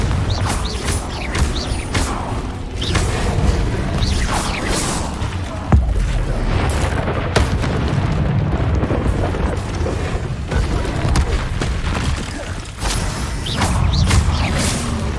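Repeated magical blasts from the Confringo fire spell in the Hogwarts Legacy video game, a dense run of booming bursts and whooshes layered over busy combat noise, loud and continuous with sharp spikes throughout.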